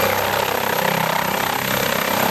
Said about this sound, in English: I've left this clip in for anyone who's interested in helicopters